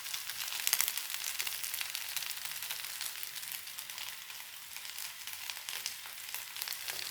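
Fried rice sizzles steadily in a hot pan as a little red chilli sauce is added, a continuous close, bright frying hiss with faint stirring and no talking.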